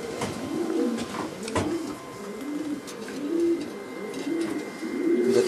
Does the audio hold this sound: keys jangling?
no